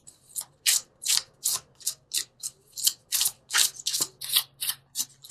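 A deck of angel cards is shuffled by hand in quick repeated bursts, about a dozen crisp riffling swishes in a steady rhythm, close and clear with no talking.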